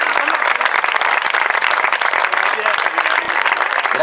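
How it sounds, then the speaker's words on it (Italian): Audience at a fashion show applauds as people arrive, a loud dense clapping from many hands, steady throughout with faint crowd voices mixed in. "fate un applauso, stanno arrivando"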